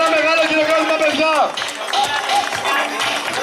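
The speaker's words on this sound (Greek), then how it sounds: "Ένα μεγάλο χειροκρότημα, παιδιά!" A crowd claps at a trail run award ceremony in Ioannina, with steady close applause under an announcer's amplified voice and some cheering.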